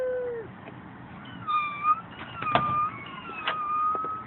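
A young child imitates a cat with thin, quiet meowing cries over background hiss, several short drawn-out calls.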